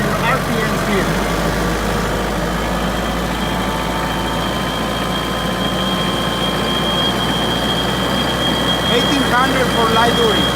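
A loud, steady engine drones throughout as the throttle is raised toward 1800 RPM, a dense continuous rumble with a slight lift in pitch near the end.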